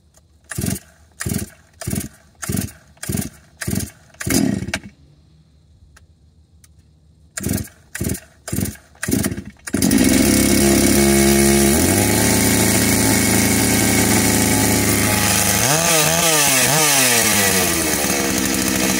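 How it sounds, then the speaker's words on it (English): A Holzfforma G660 chainsaw fitted with a 36-inch bar and 3/8 chain takes a series of rhythmic pull-cord strokes, goes quiet for a moment, takes more pulls, then fires up and runs loudly, revving up and down. "I have never started this thing before"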